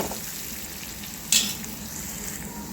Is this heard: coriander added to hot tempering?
yes